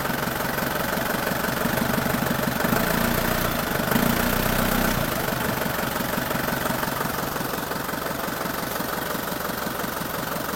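Isuzu Panther diesel engine idling around 800 RPM, a steady close rumble with a rhythmic diesel clatter and slight unevenness, continuous throughout without speech.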